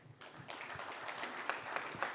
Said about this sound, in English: I would like to move, a hand clap for Arjun.